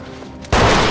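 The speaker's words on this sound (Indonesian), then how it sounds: "Giliran Joe yang ditembak hingga jatuh ke dalam lubang" Gunfire from a film scene: a sudden loud burst of shots crashes in halfway through, following a dull, low background, and stays intense to the end.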